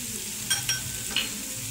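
Vegetables with tomato and green chili sautéing in a pan for Indian-style macaroni, a steady close hiss and sizzle broken by a few brief scraping stirs.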